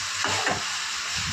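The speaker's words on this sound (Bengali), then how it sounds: "তো এবার ভালো করে নাড়াচাড়া করে ম্যাগির গায়ে মশলাগুলো লাগিয়ে নেব" Maggi noodles stir-fried with masala and egg in a hot pan, giving a dense, steady hiss with a brief scraping stir, heard up close and alone.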